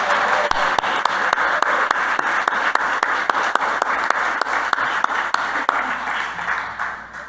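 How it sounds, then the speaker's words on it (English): Audience at a club officers' installation and awards presentation applauding steadily, a full roomful of clapping with sharp individual claps standing out before it thins at the end. "Can we get another round of applause for Kitty for all the work?"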